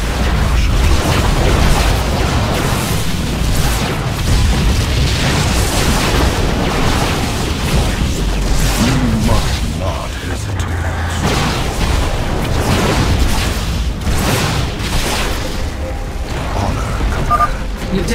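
Cannon being destroyed in StarCraft II, heard as a loud, continuous barrage of booming explosions and mechanical clatter that fills the whole stretch without pause.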